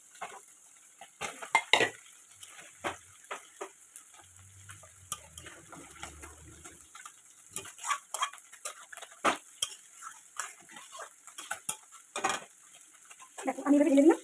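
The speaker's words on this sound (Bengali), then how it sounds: "আমি এটাকে পুরোটাকে এইভাবে ঢেলে দেবো মাছটাকে।" Marinated lote fish, coated in salt, turmeric and mustard oil, goes into a pan with ginger and garlic, bringing scattered clinks and scrapes of utensils against cookware, sharp and close, between quiet stretches.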